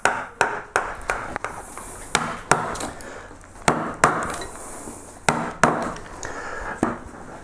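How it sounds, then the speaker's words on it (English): A mallet strikes a deep number 10 gouge carving hardwood into Japanese cloud shapes, about a dozen sharp, close knocks at an uneven steady pace, each with a brief woody ring. "It's a hardwood, so I'm using my mallet, obviously."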